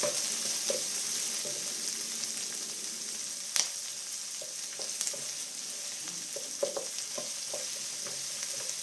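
Curry leaves and tempering spices sizzle and fry steadily in hot oil in a pan for soja curry, a constant close crackle with occasional small pops and stirring scrapes.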